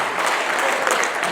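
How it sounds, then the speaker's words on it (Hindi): Audience applause at a Hindi kavi sammelan poetry recital, a dense, steady wash of clapping from a crowd filling the whole moment without pause. "सुनाओ, मन से सुनाओ, आपको सुनो, ताली बजाओ।"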